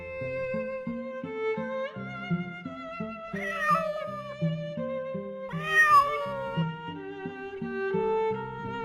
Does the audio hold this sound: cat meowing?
yes